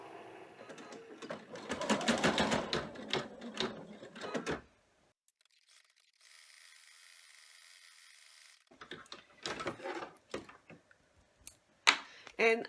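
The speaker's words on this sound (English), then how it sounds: "go run the finishing stitches, which is going to hold the chalkboard material to the rest of it" An embroidery machine runs finishing stitches to hold chalkboard material onto an in-the-hoop heart pencil topper, a rapid mechanical chatter in bursts, stopping for several seconds of near silence before starting again.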